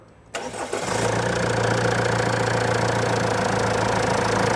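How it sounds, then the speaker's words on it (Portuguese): A diesel car engine cranks briefly and catches, then settles into a steady, loud idle with a low rumble and faint knock, while a diesel particulate filter is being tested. "Então vamos dar partida no motor."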